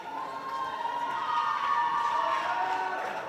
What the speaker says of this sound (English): you can hear we got a nice good crowd out here